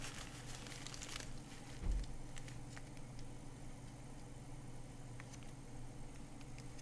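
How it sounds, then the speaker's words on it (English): A car door slams outside, heard as a single muffled low thud about two seconds in, faint and distant over a steady low background hum. "Just heard a car door slam."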